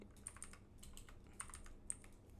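Quiet typing on a computer keyboard, a quick irregular run of soft clicks and taps with a few sharper keystrokes standing out.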